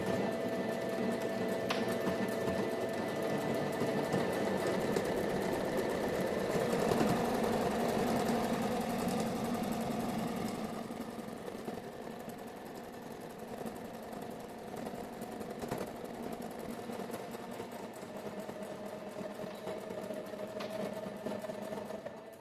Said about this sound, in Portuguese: agora a gente vai costurar de pé de máquina aqui e aqui embaixo também